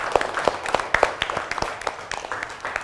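A primary school class claps, a loose scattering of distinct hand claps at an uneven rhythm, fairly close and moderately loud, thinning slightly toward the end.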